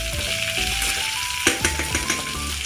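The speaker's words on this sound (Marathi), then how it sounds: "मिरची चांगली तळून घ्यायची." Green chillies frying in oil in a pan: a brisk, close sizzle with crackling pops and a few clinks of stirring over a short stretch, with no talk.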